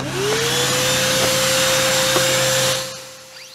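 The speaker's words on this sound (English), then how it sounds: "now we will test it with the dust shroud on, cutting hard porcelain" A DeWalt 3-inch 20V cordless cut-off tool with a dust shroud hooked to a shop vac cuts hard porcelain, giving a loud, steady, close high whine over a vacuum roar that spins up quickly and winds down near the end.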